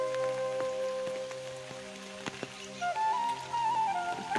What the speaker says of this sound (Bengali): টুক টুক টুক বৃষ্টি পড়তেছে